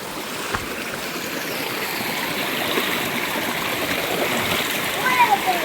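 A stream flows steadily in the open air, a continuous broadband rush of water with small splashes that stays even and fairly close throughout.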